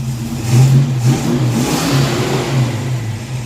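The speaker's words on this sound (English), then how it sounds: "Rev it up a little bit, buddy." Ford Mustang V8 engine fitted with a QFT Slayer 750 carburetor, revving in short swells over a rough, loud idle, heard up close throughout with no talk.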